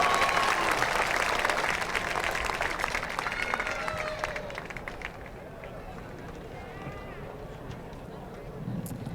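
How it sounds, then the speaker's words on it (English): A large crowd applauds graduates at a North Quincy High School graduation ceremony in 2023. The clapping is sustained and then gradually thins out, with a few cheers mixed in. "One more round of applause for our graduates, please"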